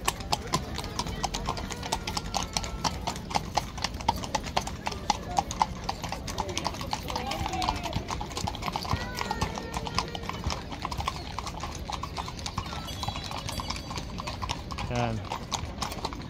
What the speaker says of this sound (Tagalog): may dumadaan pang kabayo